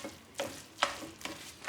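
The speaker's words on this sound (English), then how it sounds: "I'm going to give a quick stir to help the potatoes start to break down" Potatoes being stirred in a pan: four or five brief scraping strokes at a steady, unhurried rhythm, close and fairly quiet, with a faint sizzle in between and no voices.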